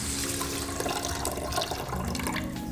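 Water poured from a tap into a rice cooker pot holding two cups of rice, a steady, loud splashing rush that continues unbroken throughout.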